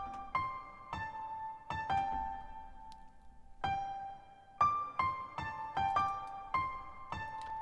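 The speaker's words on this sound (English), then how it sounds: "added a piano which sounds like this" A simple piano patch from the Nexus plugin plays a sparse melody of single notes and short chords, each struck cleanly and left to ring, with a long pause midway, close and dry.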